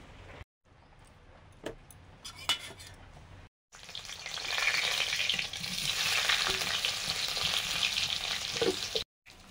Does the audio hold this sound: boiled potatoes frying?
yes